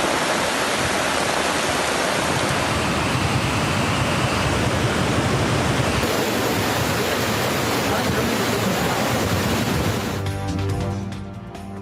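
Flood water from monsoon rains rushing through a swollen stream in Azad Kashmir, a loud, dense, continuous roar of churning water close by, heard alone.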